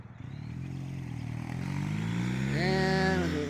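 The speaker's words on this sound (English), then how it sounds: "the PD's out here patrolling on their motorcycle" A police motorcycle on Saturday-morning patrol passes at Lake Elsinore, its engine note rising and climbing in pitch as it approaches, growing louder toward the end.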